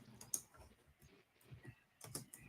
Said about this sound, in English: You hear my one finger typing?